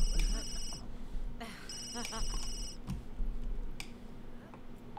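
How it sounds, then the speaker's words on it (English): A phone ringtone chimes in repeated bursts within The Sims 3 gameplay, with ticking game sounds and a low hum behind it and no talking. "your phone's going off"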